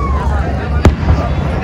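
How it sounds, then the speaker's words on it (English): A single firework bursts with a sharp boom over a Christmas boat parade at a marina, rising above a steady rumble of crowd and engine noise, with people talking nearby. "One more fireworks."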